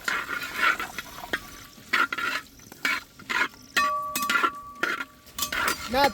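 Coconut pieces fry in coconut oil for a Kerala mutton coconut fry, with repeated bursts of stirring and metal clinks against the pan over a crackling sizzle.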